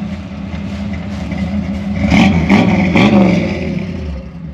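A V8 Mercury Comet with a backyard-built exhaust burbles at a lumpy idle, then blips the throttle in three quick revs, each a sharp rasping bark that falls back to the rough, close rumble.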